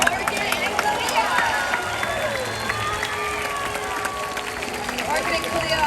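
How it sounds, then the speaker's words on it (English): A crowd at SeaWorld's Orca Encounter show applauds and cheers, a dense, steady patter of clapping spread across a large audience, with voices and music mixed in. "Everyone give a big round of applause to Orca Encounter."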